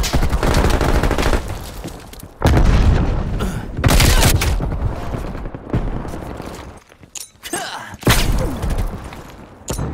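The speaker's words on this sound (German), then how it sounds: "Werfe Granate." A grenade blast in Call of Duty Black Ops Cold War multiplayer goes off amid dense gunfire, one heavy boom among repeated loud bursts and crackling shots, with brief radio-style voice callouts.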